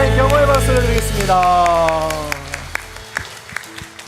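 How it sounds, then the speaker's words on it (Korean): A church congregation claps to give glory to God, the clapping starting under the last sustained notes of a sung praise line and music, then thinning to scattered separate claps as the sound dies away. "하나님 영광의 박수를 드리겠습니다."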